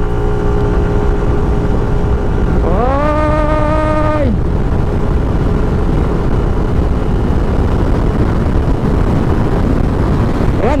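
An FKM MTX 180 motorcycle at full throttle, a loud continuous engine drone whose pitch climbs briefly, levels off, then drops back before the steady roar carries on close by.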